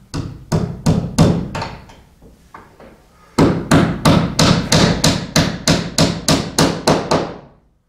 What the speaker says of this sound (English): make a few adjustments to it, you know, with my hammer, the delicate adjustment tool that it is